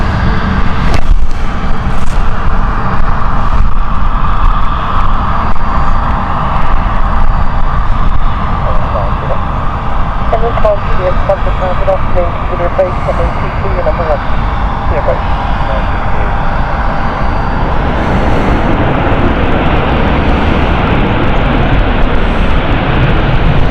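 A Ryanair airliner arrives at Stansted Airport, a steady loud engine roar and rushing noise that lasts throughout, with a voice talking over it.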